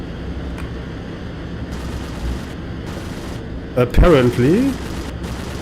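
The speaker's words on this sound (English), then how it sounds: "The rear gunner is shooting at somebody." A B-17 rear gunner fires machine guns in the flight game IL-2 1946, in a few short rattling bursts over a constant engine drone, followed by someone speaking briefly.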